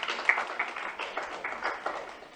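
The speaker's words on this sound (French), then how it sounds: "il faut les applaudir" Applause from a conference audience, with light, scattered hand claps at moderate distance forming a soft patter for a couple of seconds.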